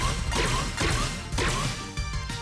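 Sea of Stars battle effects: three or four crunching smash hits with swooshes, sounding as characters leap onto three enemies in turn, all close and loud over a continuous musical backdrop.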